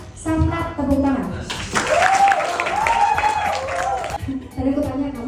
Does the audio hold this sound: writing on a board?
no